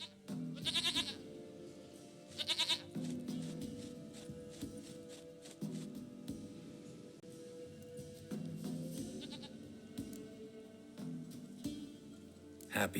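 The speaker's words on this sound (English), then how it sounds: "Goat of mine, dearest, sweetest goat." Goat in The Witcher video game bleating in several short, quavering bursts spaced a few seconds apart over a steady bed of game ambience and soft music.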